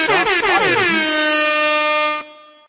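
A loud, sustained air horn blast, wavering at first and then holding a steady blaring tone before cutting off with a short fading tail.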